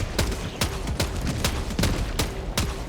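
Grenade battlement turret in the Helldivers video game firing in an even rhythm, about seven loud, sharp explosive bursts roughly every 0.4 seconds, up close and with no talking.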